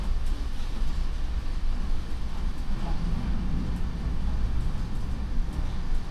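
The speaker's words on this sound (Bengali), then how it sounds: "এই হলো বর্তমান ট্রেনের স্পিড, দারুণ গতিতে চলছে।" An Amrit Bharat Express sleeper train running at about 127 km/h, heard from inside as a steady, loud low rumble and roar of wheels on rail that holds without a break.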